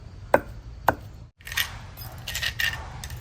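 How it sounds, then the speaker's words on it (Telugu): Coriander seeds being pounded finely in a mortar for a tomato chutney, sharp, close pestle strikes: two distinct knocks, a brief pause, then a run of grinding, scraping hits. "ధనియాలు మెత్తగా దంచేసుకోవాలండి"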